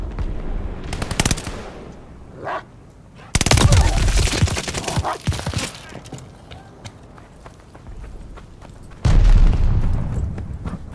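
Explosions and gunfire from Call of Duty: Vanguard with a glide bomb strike, loud broadband blasts around 3.5 and 9 seconds amid steady rattling gunfire, with a voice briefly talking.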